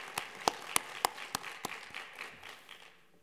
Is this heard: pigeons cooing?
no